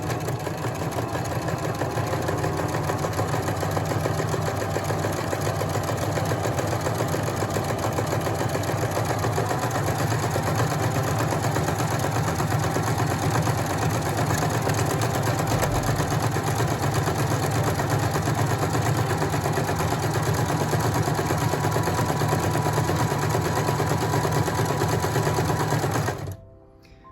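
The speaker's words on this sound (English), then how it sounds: "Now you have to watch when the machine gets back to the place where it started. You have to stop the machine." A sewing machine stitches a buttonhole on a pillow, a steady close whirring hum with rapid needle chatter running continuously, then cutting off abruptly at the end.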